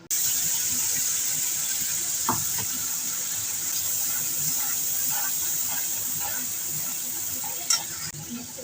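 Mustard spice paste hitting hot oil with black cumin and dried red chilli in a pan, giving a steady close hiss and sizzle with faint stirring clinks.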